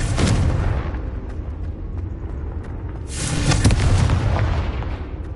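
Confringo blasting spell in Hogwarts Legacy explodes with a loud, sustained booming roar, then a second heavy blast swells about three seconds in and rumbles on without talk.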